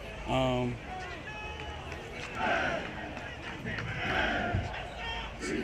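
Miami Hurricanes football players hype up during a spring practice warm-up, with loud group shouts rising in repeated bursts amid outdoor bustle, while a nearby voice talks over the scene.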